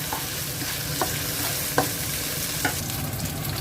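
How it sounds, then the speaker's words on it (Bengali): Pork frying with garlic, salt and pepper in a hot pan, a steady close sizzle broken by a few sharp scrapes and taps as the meat is stirred, with no voices. "এ হচ্ছে শুকরের মাংস, গার্লিক দিয়ে একটু সল্ট পেপার দিয়ে সতে করতেছি।"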